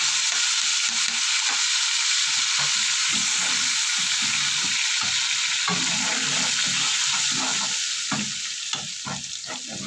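Garlic frying in a pan with leftover rice nearby, a continuous loud close sizzle broken by repeated scraping and stirring strokes; no talking.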